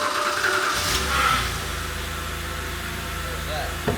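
A BMW engine catches and settles into a steady idle, a low, even hum close by that carries on with people talking over it.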